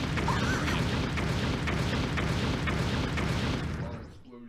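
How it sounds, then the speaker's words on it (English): Cartoonish explosions boom in New Super Mario Bros. U Deluxe during a cutscene, a dense, continuous rumble with a few sharper bursts that fades out near the end. "Explosions."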